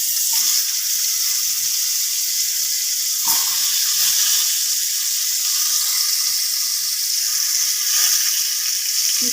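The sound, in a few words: potato and raw green banana frying in oil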